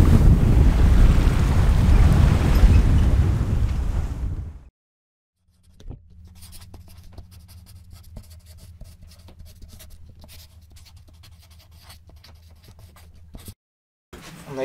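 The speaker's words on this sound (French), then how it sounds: "20 nœuds de vent qui nous accompagnent" Strong wind and waves batter a sailboat at sea in about 20 knots of wind, first as a loud gusty roar of wind noise on the microphone, then after a sudden cut as quieter creaking and a low hum aboard.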